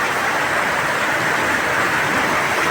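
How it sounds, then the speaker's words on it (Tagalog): Heavy rain pours steadily during typhoon flooding in Lingunan, Valenzuela, a loud, unbroken wash of broadband noise with no pauses and no talk. "Ganun kalupitan tong ulan na to."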